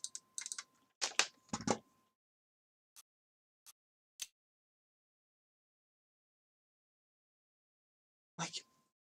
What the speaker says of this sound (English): you can hear me clicking.